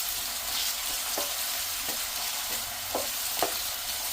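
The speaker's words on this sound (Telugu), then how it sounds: "ఇప్పుడు ఈ ఆనియన్స్ గోల్డెన్ బ్రౌన్ కలర్ వరకు ఫ్రై చేసుకోవాలి." Chopped onions and curry leaves sizzle in a pan as a soya meal maker keema fry is started, giving a steady hiss broken by several short scrapes of a spoon as the mixture is stirred.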